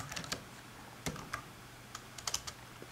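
Light keystrokes on a computer keyboard come as a few sparse, quiet clicks and short clusters in a hushed room, with no talk.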